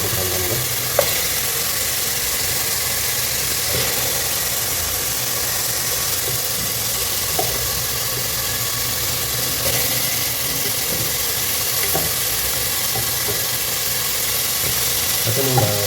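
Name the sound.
mutton frying in butter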